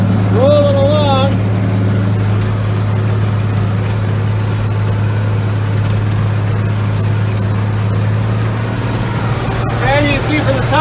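Ford TW 20 tractor rolling along on a bumpy field pulling a coulter machine, a steady loud engine drone with continuous low rumble and rattle throughout, and a brief faint whine near the start and end.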